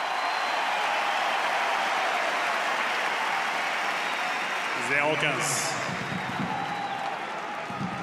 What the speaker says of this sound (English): the crowd will keep cheering